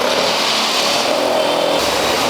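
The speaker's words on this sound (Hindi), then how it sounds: "सो अब सर्विस के बाद भैया टेस्ट ड्राइव लेके वापस आ गए हैं।" Honda Activa 5G scooter engine running close by after a service, a steady mid-pitched hum that swells slightly near the end, with no talk over it.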